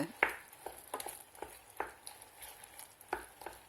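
Apples cooking down in a pan, stirred regularly with a utensil: sparse scrapes and soft knocks against the pan at uneven intervals over a faint background, with no talking.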